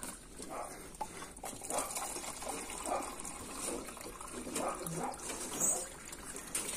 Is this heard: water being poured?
yes